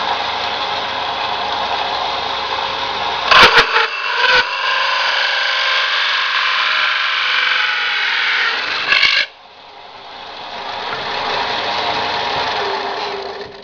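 A power drill fitted with a hole saw bit cuts steadily into a wooden facade panel, giving a sustained loud grinding whine with a few brief clunks, then a quieter continued spin after the bit breaks through.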